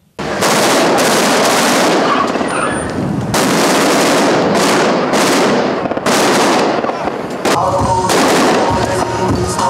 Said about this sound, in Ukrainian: Постріли, вибухи, гуркіт важкої техніки та маневри автомобілів.